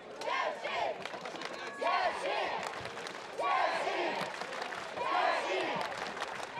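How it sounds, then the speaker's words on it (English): Devoted Czech Republic fans at a 5vs5 medieval combat battle cheer and shout in loud, repeated surging waves, with whistles and yells rising and falling throughout. "Big noise being made by these devoted Czech Republic fans"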